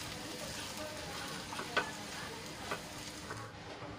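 Sabudana khichdi is stirred in a pan, a soft steady sizzle broken by a couple of light scraping clicks from the spoon, faint and without speech.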